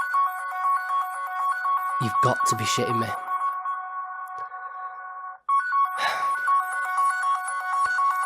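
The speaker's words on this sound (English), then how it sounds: "This is my mum ringing." A mobile phone ringtone plays steadily for an incoming call, loud and close, with a brief break midway; someone briefly speaks over it.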